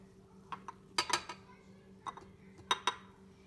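Butter and sugar being mixed for eggless shortbread cookie dough in a bowl; scattered quiet clinks and taps, a few close together, over a low steady hum, without talk.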